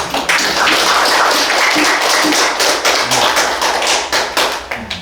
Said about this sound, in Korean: 우리 박수 한번 쳐줘, 화학자들한테.